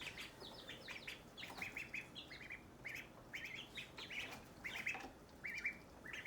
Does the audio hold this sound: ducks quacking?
yes